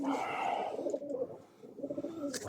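Nearby pigeons or doves coo in low repeated phrases, with faint chirps and a brief lull partway through.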